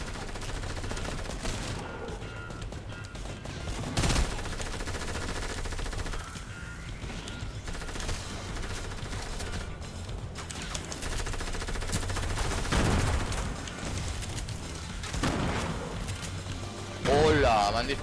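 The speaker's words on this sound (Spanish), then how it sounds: "me han disparado de no sé dónde" Gunfire in a shooter video game: a fairly quiet, continuous stretch of shots and bursts, with a few louder reports standing out, while a player talks over much of it.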